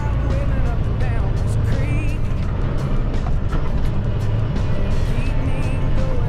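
A fully loaded 80,000 lb semi truck labors up a steep incline in Texas Hill Country, its engine a loud, constant drone throughout with road noise and a voice over it.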